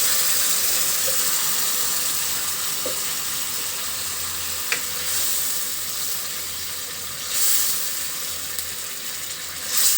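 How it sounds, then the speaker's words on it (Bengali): Hot boiled water going into a pan of fish curry, a steady sizzling, bubbling hiss running throughout at close range, with a few brief stirring clinks and small swells of louder hissing. "এখন দিয়ে দিচ্ছি ফুটিয়ে রাখা গরম পানি দিয়ে ঝোল।"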